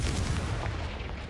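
Confringo spell blast in Hogwarts Legacy, heard as a loud, dense rumbling burst that fills the whole moment, deep and booming with no gaps.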